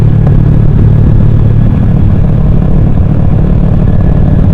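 A two-cylinder motorcycle with a Leovince exhaust cruises at 60 km/h on a road in Gunungkidul, its low engine rumble heard close but buried under heavy, constant wind roar, with no talking.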